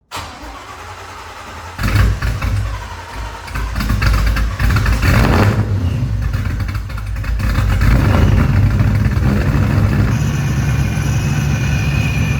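Car engine starting and settling into idle after an intercooler install, running slightly rich, a loud close mechanical hum with a brief rev early on, then a steady rumbling idle alone.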